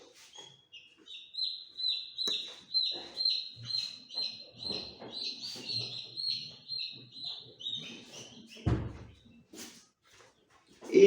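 Newly hatched chick, still wet, peeping inside a homemade egg incubator: a steady run of high, repeated chirps close by, with soft handling noises, a brief thump near the end and some quiet talk.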